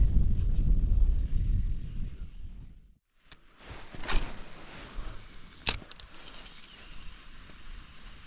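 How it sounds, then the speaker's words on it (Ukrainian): Strong, cold wind gusts over an open shoreline during a fishing trip, a steady loud rumble of buffeting with gusts rising and falling and a brief lull in the middle. "вітрюган дує, холодний"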